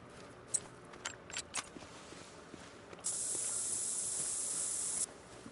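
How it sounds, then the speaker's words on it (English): Roe deer scent spray hisses out in theHunter: Call of the Wild, a steady, bright, close spray lasting about two seconds after a few faint soft clicks and taps. "why you still got the roe deer spray?"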